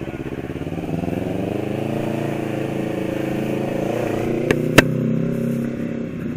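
A freshly serviced motorcycle engine runs at a steady, smooth idle, a low even hum with a couple of sharp clicks near the end.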